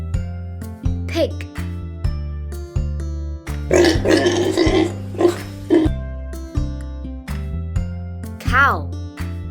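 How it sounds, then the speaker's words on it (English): Farm pig grunts and oinks over a bouncy children's flashcard music track, with a rough burst of grunting near the middle set against steady repeating tones. "pig."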